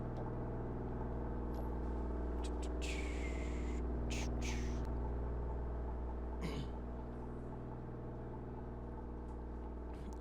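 A loud Ford Crown Victoria police car engine in the Flashing Lights emergency services simulator game rumbles steadily and close up, a deep continuous drone with a few brief clicks and noises over it.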